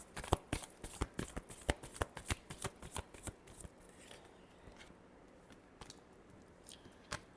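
Tarot cards being shuffled for a love reading, a close run of crisp riffling slaps and flicks in quick bursts that thin out toward the end, with no talk.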